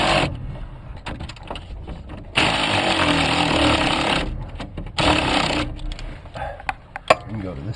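Tools work on the steering column clamp bolt of a 1967–72 Chevy C10 truck, giving bursts of rattling, whirring mechanical noise. The bursts stop and start unevenly, close by.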